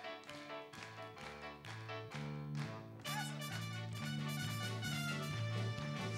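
Audience at an impersonator's comedy night clapping along in a steady rhythm over loud live music, the claps tapping beneath the band.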